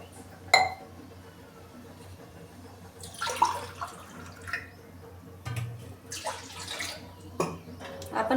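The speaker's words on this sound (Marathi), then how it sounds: "तर आपण कढईमध्ये पाणी टाकून घेऊ।" Water is poured into a wok on a gas stove in a home kitchen, short splashing bursts with a sharp metallic clink at the start and a few louder pours toward the end.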